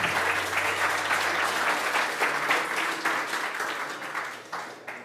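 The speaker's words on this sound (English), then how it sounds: "Big round of applause for Chris." Conference audience applause at a security talk, a dense sustained burst of many hands clapping in a hall, loud at first and gradually tapering off toward the end.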